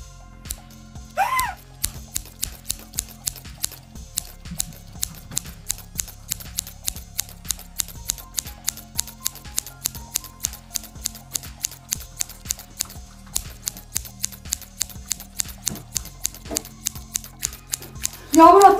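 Rapid, evenly spaced metallic clicks of giant scissors in a video game repeat for many seconds like a large mechanism snapping open and shut, with occasional voices and game sounds underneath.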